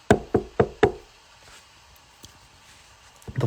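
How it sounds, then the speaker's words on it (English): Four firm, evenly spaced knocks on a door, close and fairly loud, then a quiet stretch with faint small thuds and another soft knock near the end. "But no, the knocking repeated."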